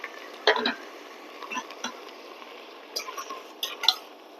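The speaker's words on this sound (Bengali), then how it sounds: "এবার আমি ঢাকনাটা খুলছি" The lid comes off a pan of peas cooking on medium heat, with a few light metallic clinks and scrapes, then a louder clatter near the end, all close and without talk.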